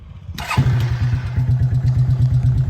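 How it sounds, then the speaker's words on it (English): A quad bike engine cranks and fires up after a short quiet moment, then settles into a loud, steady, close idle with a rhythmic pulsing throb that continues to the end. "Let's give him a quick start up."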